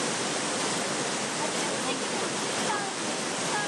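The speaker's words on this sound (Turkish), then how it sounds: "Tabiat Parkı içerisinde Taşpınar Deresi'nde yaklaşık 20 metreden Aksu Deresi'ne dökülen Kuzu Alan Şelalesi de ilgi görüyor." Kuzu Alan waterfall in a nature park drops about 20 metres into the Aksu stream, making a steady, dense rushing roar that fills the whole stretch with no pauses.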